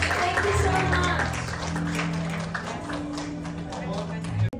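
Crowd applause at a news channel grand launching, moderate clapping under a speaker's amplified voice and background music tones, continuing for several seconds before a sharp cutoff.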